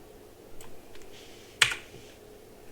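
Keys on a computer keyboard tap a few times, mostly faint with one sharper clack near the end, close by and with no talking.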